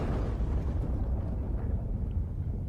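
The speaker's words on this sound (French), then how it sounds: "Ah, le souffle de l'explosion!" Explosion blast in the Demon Slayer anime, a heavy low rumbling roar that is loud at the start and gradually thins out, with no voices over it.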